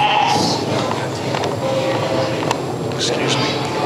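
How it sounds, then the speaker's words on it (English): Goats bleat in short cries amid a busy, noisy background with people talking nearby. "multi-track videos of women milking goats"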